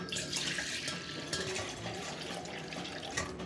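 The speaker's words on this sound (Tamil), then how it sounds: "இப்போ தேவையான தண்ணி ஊற்றிக்கலாம்" Water runs and splashes steadily into a container at close range while making lemon juice, a continuous rushing pour with no voices.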